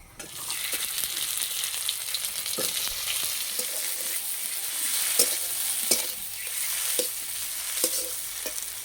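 Boiled potatoes being broken up and stir-fried in a kadai with dry red chilli, five-spice, grated ginger and green chilli for potato rolls: a continuous close oil sizzle with irregular scraping and tapping of a spatula against the pan.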